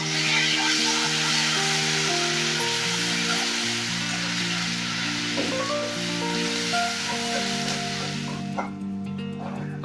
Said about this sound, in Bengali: দিয়ে আমি প্রথমে রসুন বাটাটা দিয়ে ভালো করে ভেজে নেব।